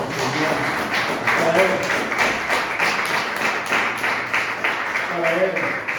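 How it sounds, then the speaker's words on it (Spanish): A church congregation claps together in a steady rhythm while a preacher keeps speaking over the clapping. "Yo le doy un aplauso al Señor."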